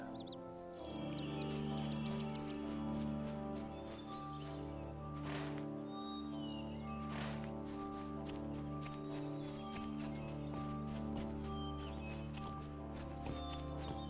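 Horse hooves clop steadily over a sustained musical score in the game The Lord of the Rings Online, with a couple of faint bird calls and a distant whinny; evenly mixed.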